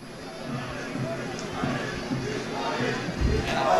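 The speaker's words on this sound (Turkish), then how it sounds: "İsmail tezahüratları yükseldi." A large outdoor crowd at a Turkish oil wrestling final in Fethiye, Muğla, roars and chants steadily for wrestler İsmail, a dense continuous swell that builds slightly toward the end.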